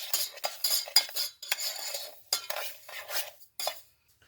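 A spoon stirs dry corn starch and sugar in a bowl: about eight short, close scraping and clinking strokes in an uneven rhythm, clear and alone with no voices.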